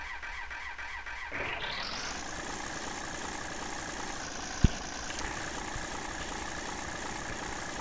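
An AmTran B800 bus in the Rigs of Rods game cranks over and fires up, settling into a steady, low, even diesel idle, with a single sharp click partway through and no talking.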